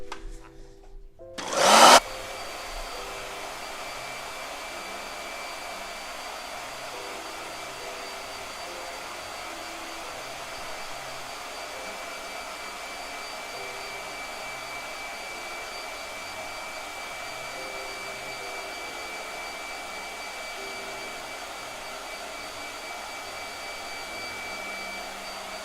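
A blow dryer starts with a loud burst, then runs as a steady, even whoosh with a thin high whine for over twenty seconds, close by while someone paints a costume character for Halloween, with no talk over it.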